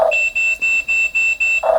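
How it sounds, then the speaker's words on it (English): A Top Race TR218 remote-control drill excavator with demolition hammer beeps as it pairs with its controller: five even, bright electronic beeps in a steady rhythm, loud and close, with no talking. "that beeping noise means that the excavator and the controller are now paired"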